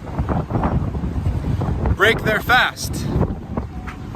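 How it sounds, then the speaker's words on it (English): Steady wind roars and buffets the microphone throughout, with someone speaking briefly over the gusts. "It's a windy day here."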